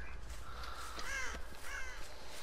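Crows caw in the Dead by Daylight video game, two or three harsh calls at moderate distance over a steady low rumble of in-game ambience.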